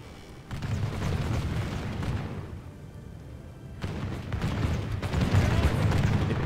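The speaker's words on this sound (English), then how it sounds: "The guns are firing." Artillery guns fire in the Call of Warhammer battle between the Empire and Orcs and Goblins, heavy booming blasts rumbling loudly in two long waves with a brief lull between.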